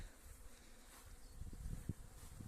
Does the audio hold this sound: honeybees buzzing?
yes